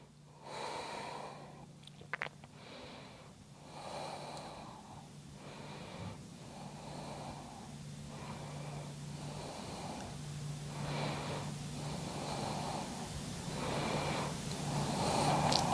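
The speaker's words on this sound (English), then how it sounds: "Taking a few rounds of breath here." During lying-down yoga, slow deep breaths repeat in a relaxed rhythm of long soft inhales and exhales, close to the microphone with a faint nasal rasp, and no voice is heard.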